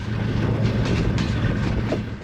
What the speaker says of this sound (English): our powerful locomotive hauling this long train